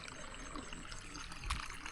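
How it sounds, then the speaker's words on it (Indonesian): Water trickles steadily along an irrigation channel beside a rice paddy, fed from a waterfall up on the hillside; a soft, continuous flow heard alone at close range. "ini ada satu aliran air yang langsung dialirkan dari air terjun yang ada di atas sana"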